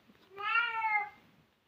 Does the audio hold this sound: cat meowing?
yes